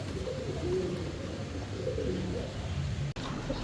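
A pair of Sowa Chandan fancy pigeons coo nearby, their soft low warbling calls rolling on steadily and almost without a break, with a faint background hiss.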